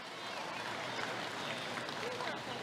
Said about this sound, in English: Let's clap for the young lady.